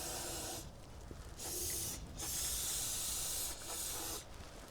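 Aerosol spray hissing onto the handbrake of a 2004 Renault Master II 2.5 dCi van, standing in for proper penetrating fluid: three or four close bursts, each about a second long, with short pauses between them.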